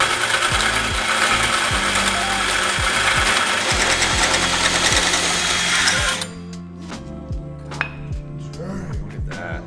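A cordless drill or impact driver rattles in fast ratcheting bursts during custom exhaust fitting on a rear-wheel-drive Honda Civic, loud and continuous for about six seconds, then it stops and leaves sparse mechanical clicks and clunks.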